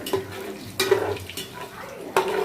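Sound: cinnamon, cloves and cardamom frying in oil

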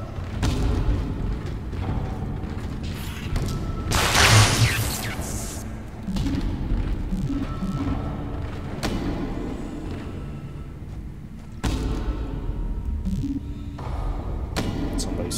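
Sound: thumping sounds in video game Dead Space

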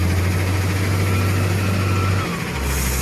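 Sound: tractor engine idling

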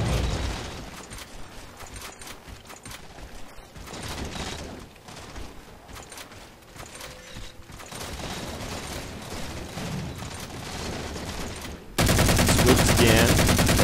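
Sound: gunfire in the video game Halo 4

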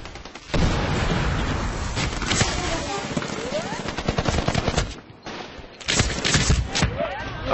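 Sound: grenade explosion in video game Medal of Honor Warfighter

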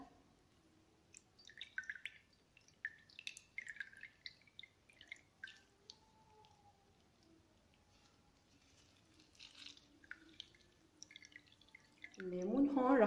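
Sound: lemon squeezed into a glass of water, juice dripping

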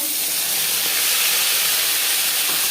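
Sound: whole cumin seeds frying in hot refined oil

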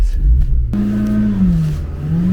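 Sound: repaired engine running

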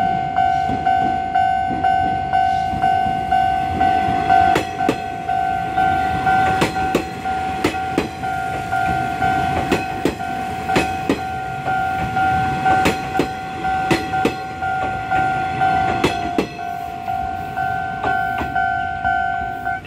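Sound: Nishitetsu local train bound for Tenjin passing level crossing

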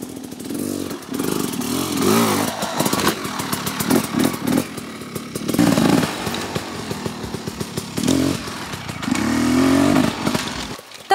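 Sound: motorcycles at a motocross training ground

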